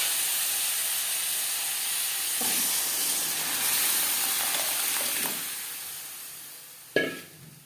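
Boiled mung dal simmering with fried vegetables in a pan, giving a steady hiss and sizzle broken by a few soft stirring scrapes and a sharp clank near the end.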